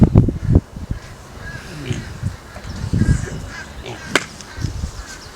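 A crow caws several times, sharp and fairly close, in scattered bursts across a few seconds, with bumps and handling noise in between.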